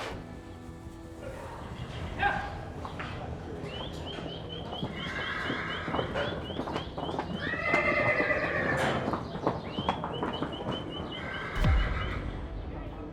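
Horses whinny repeatedly across a busy auction yard where horses are penned for loose sale, their high neighs rising over steady crowd murmur, a few hoof clops and a distant dog bark.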